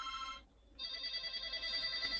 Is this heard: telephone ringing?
yes